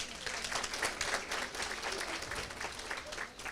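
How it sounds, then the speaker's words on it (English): Sustained applause from an audience at a student pledge ceremony, many hands clapping densely and evenly for several seconds. "Can we please give ourselves a round of applause?"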